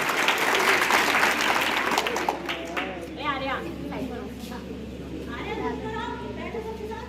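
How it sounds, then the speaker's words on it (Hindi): Applause from a classroom audience at a science demonstration, loudest at the start and thinning out, with someone speaking over the clapping throughout. "बजाओ ताली उनके नाम से।"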